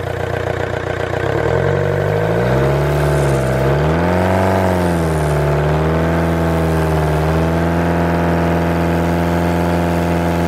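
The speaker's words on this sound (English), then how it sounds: "now we'll get the engine running at 2500 revs" A Volkswagen Sharan 1.9 diesel engine revs up from idle to 2500 rpm during decarbonizing, pitch rising and wavering for a few seconds before settling into a steady, sustained high hum.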